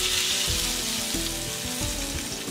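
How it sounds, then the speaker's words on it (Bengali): Turmeric and salt sizzle steadily in a hot frying pan while cooking, a close, continuous hiss with occasional soft stirring scrapes and no talk. "এবারে আমি প্যানের মধ্যে একটু হলুদ দিয়ে দিব সাথে আমি লবণ দিয়ে দিব"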